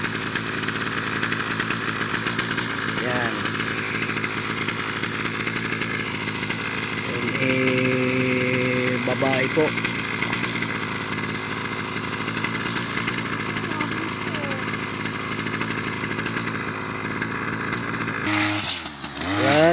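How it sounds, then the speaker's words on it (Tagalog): Grass cutter engine running steadily in a loud, buzzing drone like a small two-stroke motor, close by and continuous, with brief speech partly masked beneath it. "Ang aming babaeng taga-grass cutter"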